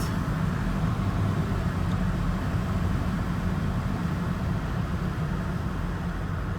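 An all-wheel-drive car cruises at about 45 mph after a CV joint repair, giving a steady, even road and engine rumble from inside the cabin with no clunks or knocking.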